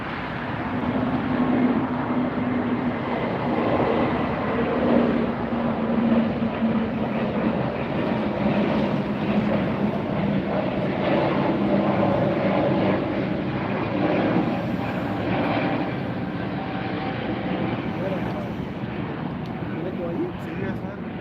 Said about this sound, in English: Volara's taking off